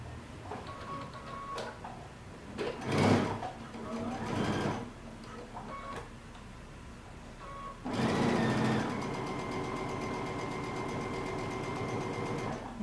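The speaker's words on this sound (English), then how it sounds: "we're going to stitch right along the very edge of our pocket" Sewing machine stitching along the edge of a pants pocket: a steady, close mechanical whir that starts, briefly stops, then runs continuously with a louder, denser hum.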